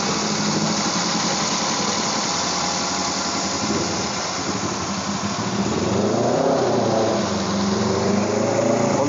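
A Toyota Avanza DOHC fuel-injected engine idles, heard from inside the cabin as a steady low hum with faint vibration, its tone rising and wavering slightly toward the end, with no talking.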